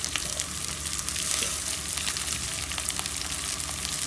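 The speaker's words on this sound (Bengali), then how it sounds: "একসাথে ভেজে নেব।" Tomatoes and green chillies fry in a pan with browned onion, giving a continuous close sizzle with faint crackles, steady and uninterrupted, no voices.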